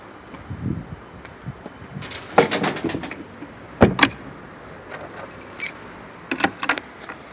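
Pigeons being brought inside from a coop, with metallic rattling and jangling bursts, wing flutters and faint cooing against a quiet outdoor background, no talking.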